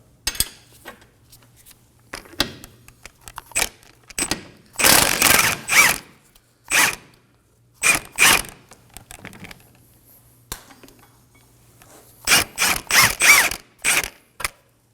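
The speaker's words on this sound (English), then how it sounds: "remove this bolt using a 19mm wrench on the nut side and a 19mm socket on the other" Ratcheting bursts and metallic clicks from a 19mm wrench and socket working a control arm bolt loose on a 2016-2020 Kia Sorento, coming in uneven clusters separated by quiet gaps, close by.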